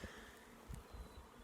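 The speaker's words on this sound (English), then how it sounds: "when you hear the rattling of all those bees take off" A bee swarm from the woods buzzes in a steady, dense drone, faint and continuous with small bursts, and no voices.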